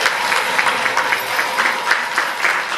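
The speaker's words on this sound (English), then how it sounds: "So let's give a clap for that, guys." An audience claps steadily in a room at a travel company's presentation, a dense, fairly loud patter of many hands with no speech over it.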